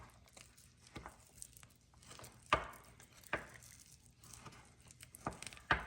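Sugar is stirred in a bowl for microwave hard cinnamon candy: faint, scattered scraping and gritty clicks with a few sharper knocks of the spoon against the bowl, close and quiet.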